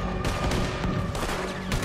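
Ship cannons in the video game Red Dead Redemption 2 fire during a naval battle, a dense roar of repeated booming blasts close together with no pauses between them.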